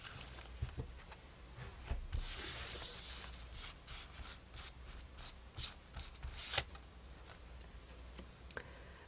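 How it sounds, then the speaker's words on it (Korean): Tarot cards being shuffled and drawn, a close, soft rubbing and riffling with a longer swishing shuffle followed by a run of light flicks and taps as cards are handled. "추가카드 하나 더 뽑아드릴게요."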